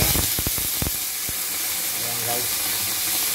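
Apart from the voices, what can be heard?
sautéing aromatics in pan for cabbage and upo dish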